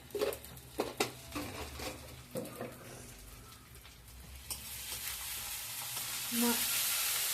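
Onion, ginger and garlic frying in a pan with salt and a pinch of sugar give a steady crackling sizzle, broken by a few sharp stirring scrapes early on and swelling into a louder, brighter hiss near the end.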